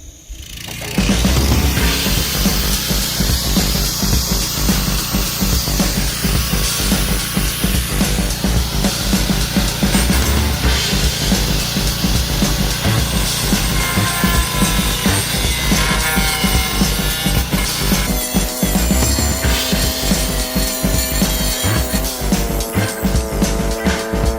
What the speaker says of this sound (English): I'm going to have to go ahead and try and grind them out a little bit wider